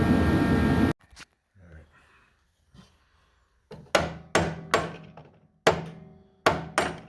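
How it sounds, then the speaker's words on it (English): Sharp metallic hammer taps on a bearing stuck on an Ariens Deluxe 28 SHO snowblower shaft, about six of them in irregular pairs, ring out close by after a brief burst of noise and a quiet pause. "So that's going to be a tap with a hammer"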